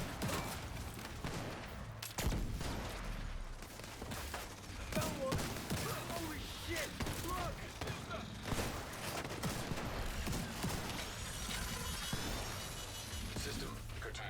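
Machine gun fire in The Division 2 shooter comes in rapid bursts and scattered shots over a busy combat mix, with someone talking throughout.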